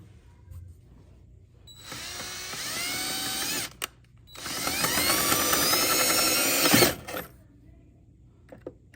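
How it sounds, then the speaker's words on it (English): Power drill boring holes into the hull of an old bass boat while a fishfinder transducer is being installed, two sustained whining bursts of a couple of seconds each separated by a short pause, close and loud. "We're gonna get our other holes drilled."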